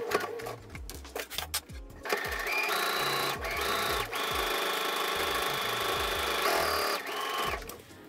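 A sewing machine stitches a 1.5 cm seam allowance to attach a waistband, running in steady bursts that rise and pause, loud and close, with no talking over it.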